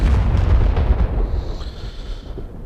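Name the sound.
aircraft exploding in DCS flight simulator video game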